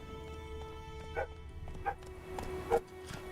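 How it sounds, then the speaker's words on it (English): A neighbour's dog next door barks in short single woofs, three or four spaced apart at moderate distance, over a low steady background hum. "Fucking dog next door never shuts up."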